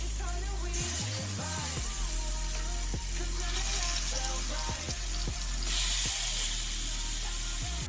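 Burgers frying in bacon fat in a hot cast iron pan give a loud, constant sizzle, broken by metallic clanks and scrapes of a utensil against the pan.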